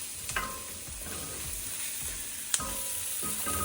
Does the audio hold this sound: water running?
no